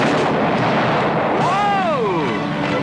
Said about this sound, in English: Now, don't worry, his gun shoots blanks.